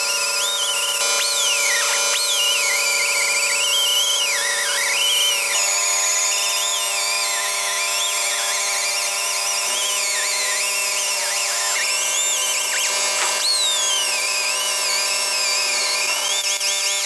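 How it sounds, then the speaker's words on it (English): A handheld power tool whines steadily as it sands a painted cow skull, a loud, continuous high-pitched grind with slight shifts in pitch and pressure, and no voices. "So we're going to sand on it a little bit."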